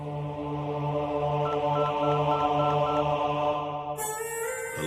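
A telephone is dialed: a steady tone with a run of short regular beeps, about eight evenly spaced pulses, then a brief burst of brighter noise at the end, with no talking.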